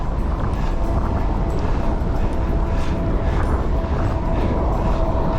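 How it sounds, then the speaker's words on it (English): Strong wind buffets the microphone during a bikepacking ride in the Arizona desert, a loud, steady roar of rumble and hiss with no break throughout. "the wind is definitely getting worse now."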